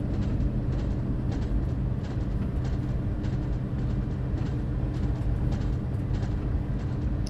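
A BR Class 215 diesel train in Train Sim World 2, throttle held up on a Northern Trans-Pennine run, drones steadily with a loud low rumble and rhythmic rail clatter throughout, no voices.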